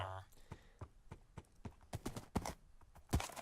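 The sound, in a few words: horse hooves clip-clopping in Minecraft video game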